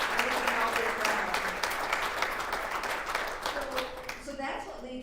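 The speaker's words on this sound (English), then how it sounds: "So a round of applause to all of you who did this work." Audience applause fills the room at a childcare community event in Michigan, a dense, steady wash of many hands clapping that tapers slightly toward the end, with some voices mixed in.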